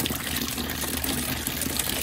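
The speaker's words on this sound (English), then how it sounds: "I'm gonna take and open the gray water and see how it comes out." Dirty gray water drains out of an RV gray water tank, a steady close rushing splash with no talk over it.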